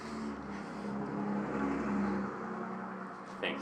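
Trucks rumble past outside with a low, continuous drone that swells gently and then eases off, heard from indoors; a small sharp noise lands near the end.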